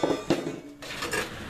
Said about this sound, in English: Set our simmer ring on